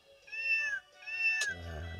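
A VTech My Zone kids' toy laptop plays a recorded cat sound: two clear, close meows in a row, each rising and then falling. A low mechanical rumble follows right after.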